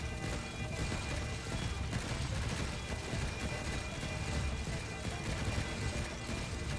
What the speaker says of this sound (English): I mean, I must have like at least 12 flak cannons.